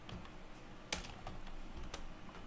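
Keystrokes on a computer keyboard as a keyword is typed into a web form, a quiet run of soft clicks with one sharper tap partway through, close and alone.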